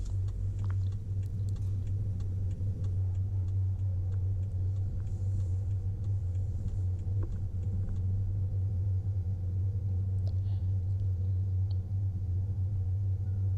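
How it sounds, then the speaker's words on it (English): A low, steady engine rumble fills a car interior, constant and droning, with faint ticks and small clicks on top. "the only noise you hear is the background of my car"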